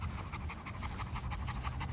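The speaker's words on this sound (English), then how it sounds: "He always does this whining thing too." Young Boerboel mastiff dog whining and panting steadily up close, a continuous breathy run of short rhythmic whimpers with no talk.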